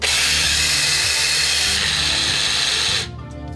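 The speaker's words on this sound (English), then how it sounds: "I'm going to take this coffee grinder and load it up with the millet." Coffee grinder milling millet grain, a loud high whirring buzz held steady for about three seconds, rising brighter midway, then cutting off abruptly into quiet.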